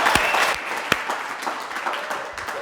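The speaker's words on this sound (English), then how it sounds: "I'll take the applause." A live studio audience applauds a guest arriving on a tech talk show, a dense, steady wash of clapping that runs the whole time at a fairly even loudness, with a few sharper claps standing out.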